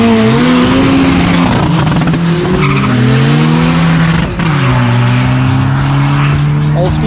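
A loud, close old school Datsun drag racing car at a South African drag strip, its engine holding strong sustained tones with rising and falling pitch sweeps as it revs and pulls away, with spectators talking throughout.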